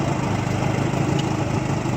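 A 1967 Evinrude Fastwin 18hp electric-start outboard motor with a three-blade bronze prop runs steadily, a loud, even droning buzz with no pauses.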